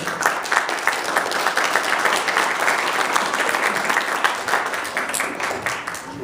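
An audience at a conference gives a speaker a warm round of applause, dense, steady clapping that continues evenly for several seconds.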